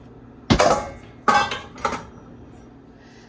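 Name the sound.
getting out a bowl, dishes clattering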